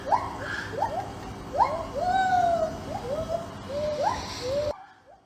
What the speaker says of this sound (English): That is the sound of chimps and parrots doing what they call vocalizing during the earthquake.